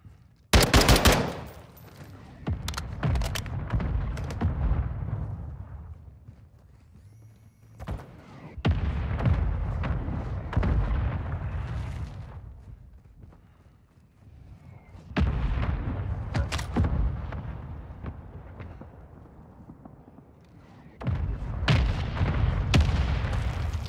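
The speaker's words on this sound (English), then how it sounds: "Mortar strike on the way!" Repeated heavy explosions and rolling gunfire boom through a Call of Duty DMZ match during a mortar strike, loud bursts separated by dull rumbling lulls, no talk.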